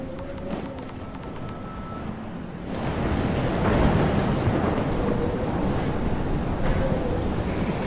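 A heavy thunderstorm with rain and rolling thunder during a tornado in Life is Strange, swelling louder partway through into a steady roar of downpour with faint bird-like calls.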